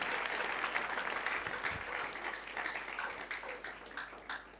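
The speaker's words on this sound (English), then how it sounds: "A round of applause once again for Prof." Audience applause after a speech at a youth entrepreneurship and leadership event in Ghana, a dense steady clapping from a crowd, moderately distant and slowly fading.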